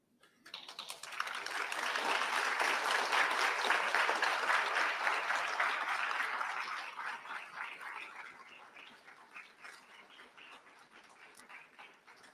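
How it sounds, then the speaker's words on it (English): Graduates at a university graduation ceremony give a round of applause. The clapping swells quickly, holds steady for several seconds, then thins out and fades, heard from a distance and without talk. "So graduates, please stand and give your families a heartfelt round of applause."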